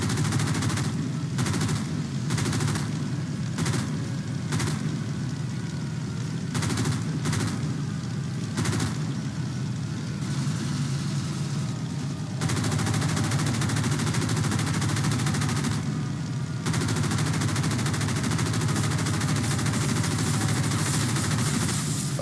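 Aircraft machine guns fire continuously in the Roblox Wings of Glory air combat game, a loud, dense stream of gunfire with short pauses and dropouts, alone.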